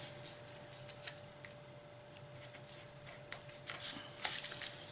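Scissors snip through paper cut for a punch board box, with several short crisp cuts and light rustling, fairly quiet and close, with no talking.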